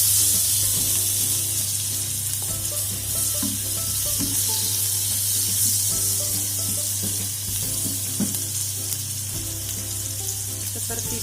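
Garlic frying in a pan for tempe steak gives a continuous close sizzle and crackle with occasional stirring clinks and a low steady hum underneath.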